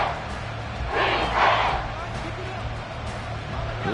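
Football stadium crowd at a Cowboys versus Commanders game, swelling into a loud roar for about a second before settling back to a steady, distant crowd murmur.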